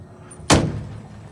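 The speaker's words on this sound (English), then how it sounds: "Good close-up of a Dover door operator." A Dover door operator on an O'Keefe hydraulic birdcage elevator drives the door shut with one sharp, loud slam partway through, then a brief fading rumble in a quiet space.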